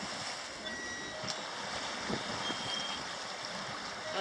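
A sailboat under jib with the motor off moves at nearly six knots, giving a steady hiss of water rushing along the hull mixed with wind noise and no engine sound.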